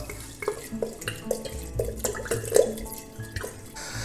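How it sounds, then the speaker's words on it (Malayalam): Water splashes and trickles in short bursts into a pot of mutton soup, with faint drips and clinks, close by and moderately loud. "ഇതിലേക്ക് ഞാൻ 1 ലിറ്റർ വെള്ളം ഒഴിച്ചു കൊടുക്കുന്നത് കേട്ടോ"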